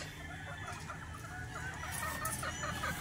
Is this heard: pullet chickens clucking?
yes